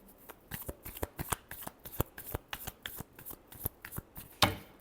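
Tarot cards being shuffled by hand in a rapid, crisp series of riffling slaps and flicks, close and fairly loud, ending with a sharper final snap.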